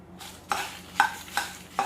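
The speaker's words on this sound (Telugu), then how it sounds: "ఇప్పుడు దీంట్లోనే కొంచెం కరివేపాకు వేసుకోండి" Curry leaves hit hot oil in a pan, crackling and sizzling in quick bursts, with about four sharp spatters close by.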